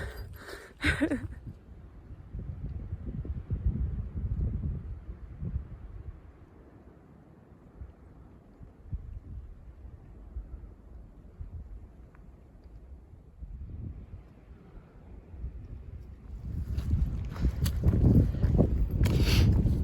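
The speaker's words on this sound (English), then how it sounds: "It's pretty windy up here." Steady low rumbling wind buffets the microphone on a high mountain trail throughout, swelling louder near the end with some gusty thumps.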